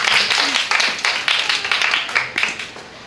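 A church congregation clapping loudly and close, dense overlapping claps in rapid bursts that ease slightly toward the end.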